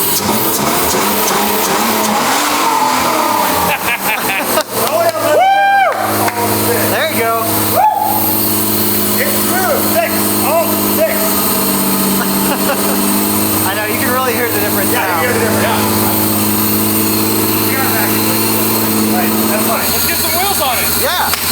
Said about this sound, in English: You should give it a little rev again.